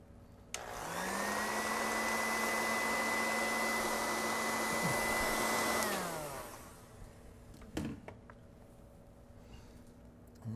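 A hair dryer blows on wet paint on a cartoon animal drawing, a steady whirring hum that runs about five seconds and then winds down, heard alone and fairly close.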